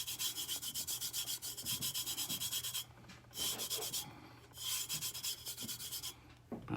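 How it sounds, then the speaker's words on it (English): Glitter is rubbed onto a tumbler by hand in quick, rhythmic scratchy strokes, close and soft, with short pauses between bursts of rubbing. "You want to make sure you get all of it rubbed before you brush the extra off."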